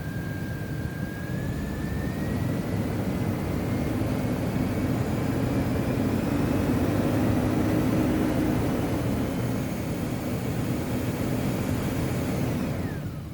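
The engine of a 1998 GMC Jimmy is revved and held at higher RPM, a steady loud mechanical drone with a rising whine that eases back down near the end, no talking.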